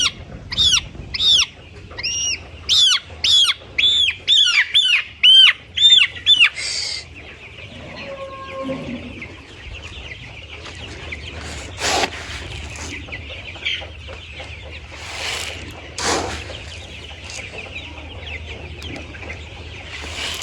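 Chickens on a small poultry farm call out in a run of loud, sharp clucks and squawks close by, then settle into softer scattered clucking and rustling with occasional louder bursts.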